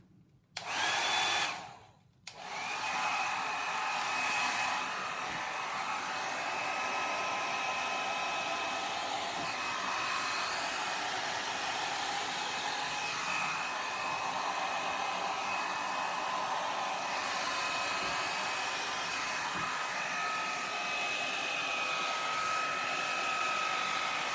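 A hair dryer on a slow, gentle setting blows with a steady, close whirring hiss and a faint whine. It starts briefly, cuts out for a moment, then runs continuously and evenly to the end.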